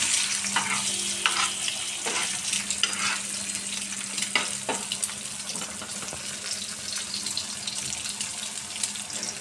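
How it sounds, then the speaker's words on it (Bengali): An egg fries in oil for a poached egg at breakfast, giving a steady broadband sizzle with a low hum and scattered clicks of utensils throughout, fairly close and moderate in level, with no talk. "তাইফার জন্য একটা ডিম পোস্ট করতেছি"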